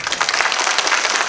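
Brief burst of enthusiastic audience clapping at a Marathi kirtan, a dense, fairly loud patter of many hands with no talk.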